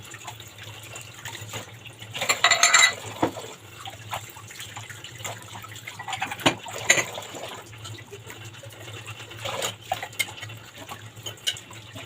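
Tap water runs into a kitchen sink while a few breakfast plates are washed, a steady faint trickle with brief louder splashes and clinks, no talking.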